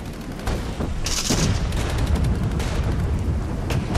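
Mortar fire in the war game Regiments, a steady rumble of low booms and distant blasts that keeps on without a break, with one brighter burst early on and no talking.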